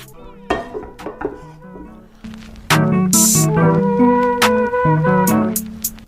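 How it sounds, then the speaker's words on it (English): Cooked shrimp are lifted out of a pan with a utensil, producing close clinks and knocks against metal. A loud clatter and scrape follows, over a steady background hum and ringing tones. "now I'm gonna take the shrimp out so we can set it aside"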